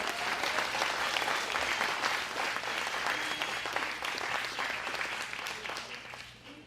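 Steady applause from an audience at a political talk, sustained clapping that fills the whole stretch at even strength before thinning slightly at the end, with no speech over it.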